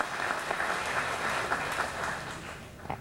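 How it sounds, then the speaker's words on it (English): A round of applause from an audience at a power plant safety recognition ceremony, a soft, even patter of many hands clapping, somewhat distant and fading slightly near the end. "I think that also deserves a round of applause"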